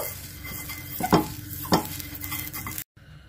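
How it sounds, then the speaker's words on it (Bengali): A hot nonstick pan has oil brushed across it, with a low sizzle and two brief brushing swipes before the sound cuts off abruptly. "এটা তেতে গেছে। এবারে আমি এতে তেলটা ব্রাশ করে দেব।"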